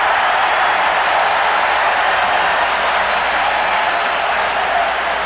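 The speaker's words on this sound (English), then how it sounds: "And the Cincinnati crowd is roaring." A large crowd at a 1972 Cincinnati baseball game roars, a broad steady wash of cheering and clapping heard from a distance on an old radio broadcast, with no voices rising above it.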